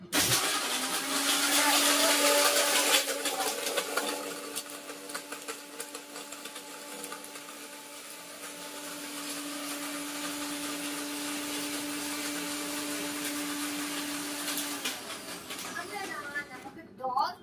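A Havells mixer grinder blends a chocolate milkshake with a loud, steady motor whine that runs for about fifteen seconds, eases slightly midway, and then cuts off, while a person talks over it.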